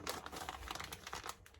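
A zipper plastic bag holding dough crinkles softly as the air is pressed out, a quiet, close, rapid rustle lasting just over a second with no talking.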